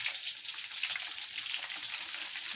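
An iftar snack fries in hot oil, giving a steady, close crackling sizzle with dense tiny pops throughout and no voices.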